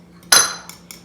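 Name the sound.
salt being added to challah dough in a bowl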